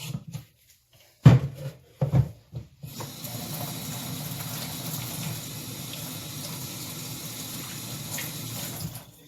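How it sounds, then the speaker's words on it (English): Hands washed with soap under a running tap: a few brief clinks and handling knocks, then a steady close stream of water splashing into a sink that runs on without pause, no talk. "now I'm going to wash my hands, and I'm just going to use my Thieves hand soap"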